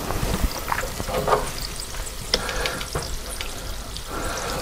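Shrimp for a po' boy deep frying in hot oil, a steady close crackling sizzle with brief louder pops that carries on without a break and without any voices.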